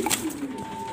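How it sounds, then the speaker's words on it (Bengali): A pair of pigeons coos in a loft, a soft low throaty cooing running steadily through the second, close and moderately loud with no talk over it. "আজকে দেখতে পারতেছেন আনকমন এক পেয়ার কবুতর।"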